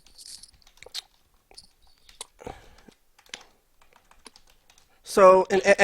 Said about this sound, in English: sorry guys, I'm just typing some stuff.